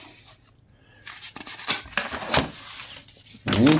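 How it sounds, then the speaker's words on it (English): A Steel Will Lanner knife with a D2 steel blade slices through paper in several short, crisp rasping strokes, close and fairly quiet, with a louder scrape at the end. "Let's go ahead and cut some paper, shall we?"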